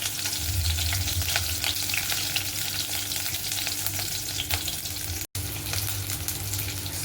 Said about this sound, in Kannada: ಮೊದಲಿಗೆ ನಾನು ಇದರಲ್ಲಿ ಕರಿಬೇವು ಮತ್ತು ಹಸಿಮೆಣಸಿನ್ಕಾಯಿನ ಹುರ್ಕೊಳ್ತಾ ಇದ್ದೀನಿ